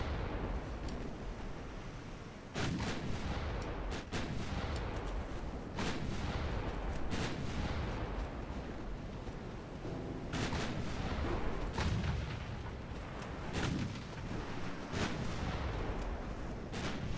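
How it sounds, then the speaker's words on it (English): Naval 7-inch gunfire in a warship battle video game: repeated heavy booming shots at irregular intervals, loud and near, each trailing off in a rumbling roar over continuous background noise. "that destroyer's getting ruined, isn't it? Just with the little 7-inch guns."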